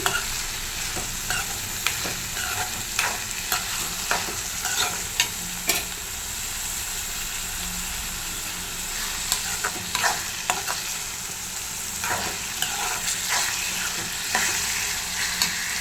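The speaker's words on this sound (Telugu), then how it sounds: "పప్పు వేసుకున్నాము, కొంచెం కలిపేసుకున్నాము." Washed lentils being stirred in a frying pan: a continuous sizzle carries on underneath while repeated scraping taps of a spoon against the pan come through at close range, without any speech.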